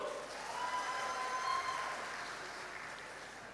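Audience applause at a Minangkabau cultural gathering and Halal Bihalal event: a soft, fairly distant patter of many hands clapping steadily and fading slowly, with no talk over it.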